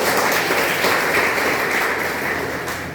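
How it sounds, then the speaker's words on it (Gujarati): Audience at a gathering for blind men and women gives a welcoming round of applause to Kevalbhai and his family, a dense, loud wash of clapping that holds steady and then begins to taper. "આપણે સૌ તેમનું તાળીઓથી સ્વાગત કરીએ"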